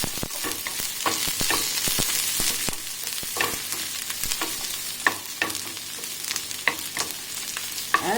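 Onions fry in a pan with a steady broadband sizzle, punctuated by sharp clicks and scrapes of stirring, close and fairly loud with no voices.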